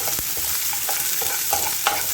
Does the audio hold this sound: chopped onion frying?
yes